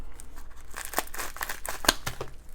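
Paper packaging with glued-down flaps being cut open from the back to reach a Pokémon card, giving a brief burst of close crinkling, tearing and snipping with one sharp snap near the end.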